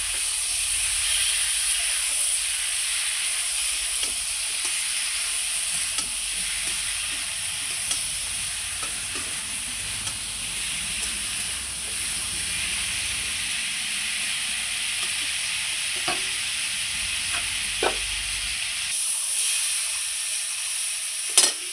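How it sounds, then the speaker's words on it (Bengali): Mustard, garlic and chilli paste frying with soft vegetable stems and potatoes in a pan, giving a continuous hissing sizzle with light stirring scrapes and a few sharp clacks near the end. "সর্ষে বাটা দিয়ে খুব সুন্দর করে ভাজা হয়ে গেছে।"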